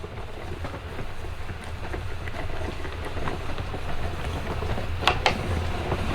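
A Gina K Designs Intri Cut cutting and embossing machine being hand-cranked to pass a die through, a steady close mechanical rumble and grind with a couple of sharp clicks near the end.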